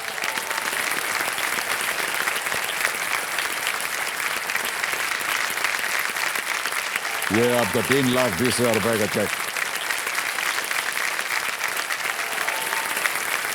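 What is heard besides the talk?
studio audience applauding on game show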